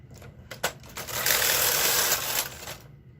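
A knitting machine carriage is pushed across the needle bed in a single pass, making a loud, close mechanical whirring rush with a few clacks at the start and a fade at the end.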